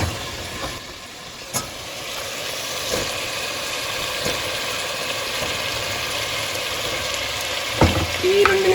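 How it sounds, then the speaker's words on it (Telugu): Mushrooms frying in a pan for a vegetable biryani give off a loud, steady sizzle. A few stirring knocks and scrapes cut through it, and no one speaks. "ఇప్పుడు మష్రూమ్ కూడా వేసేస్తున్నామండి"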